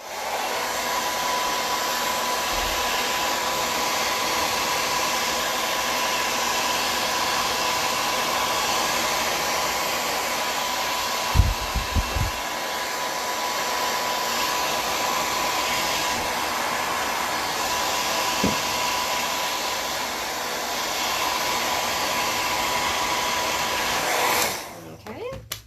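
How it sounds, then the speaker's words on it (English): A hair dryer blows on styled hair with a loud, steady, close roar that runs unbroken for about 24 seconds, with a few faint knocks in the middle, then cuts off abruptly. "Blow dryer, so it's going to be kind of loud."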